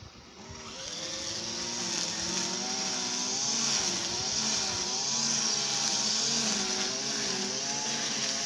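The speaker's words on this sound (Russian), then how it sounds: "Травушку косит у нас под окнами." Grass being mowed under the windows outdoors on a hot day, a loud continuous motor drone with a wavering pitch that holds steady after a quick rise at the start.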